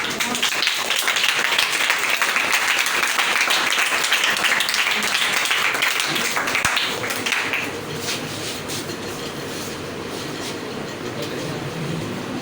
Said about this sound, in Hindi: तो इसके लिए भी आप लोगों ने ताली बजानी है